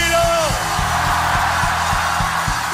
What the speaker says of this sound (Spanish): Puedes dar un grito de júbilo.